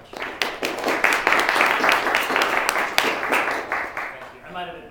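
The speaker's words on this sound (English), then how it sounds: "I might have advised you to wait until after you heard what I had to say to clap" A lecture-hall audience claps steadily for several seconds after a professor is introduced at a university philosophy club event, dense applause that gradually thins toward the end.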